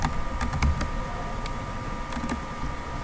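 Typing on a computer keyboard while entering a username during a software installation: a scattering of separate, crisp key clicks at an irregular pace over a steady low hum.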